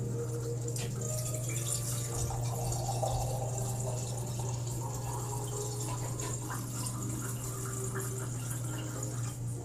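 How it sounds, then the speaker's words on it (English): White wine pours into a glass as a steady, close liquid trickle with small drips, sitting over a constant low electrical hum; nobody speaks. "We'll go ahead and pour that in a glass"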